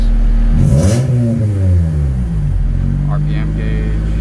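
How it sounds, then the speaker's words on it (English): A 1990 Honda CRX engine revs up and then settles back down to a steady idle rumble around 1100 RPM, loud and close. "We're idling, going back down, sitting at about 1100."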